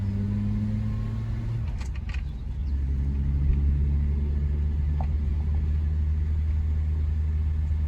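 A Vauxhall Velox with a column gear change and a little choke pulled runs steadily, a low continuous engine rumble that swells slightly after a gear change and holds close and even.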